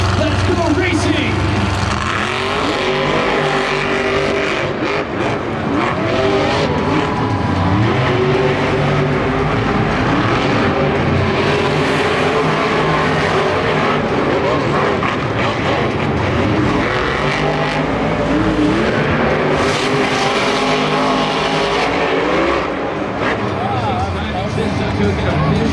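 Monster trucks race at a Monster Jam show in Angel Stadium, Anaheim, their engines roaring loudly and continuously for the whole stretch under a busy wash of crowd noise and voices.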